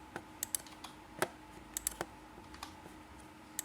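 Backspace on a computer keyboard is tapped again and again while undoing spline points in 3ds Max, making a dozen or so crisp, close keystrokes at uneven intervals, quiet and without talk.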